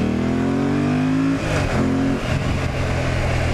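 Yamaha MT-07 motorcycle with its air box snorkel removed, revving hard under acceleration with rising harmonic engine tones, a brief dip, then another pull, loud and close with no talk.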